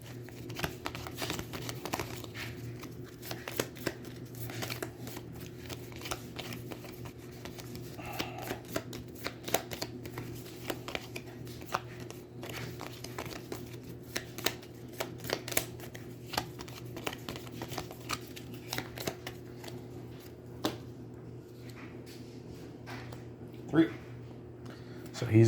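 Cards riffled and shuffled repeatedly over about twenty-five seconds, a steady papery flutter with a low constant hum underneath and occasional soft voices.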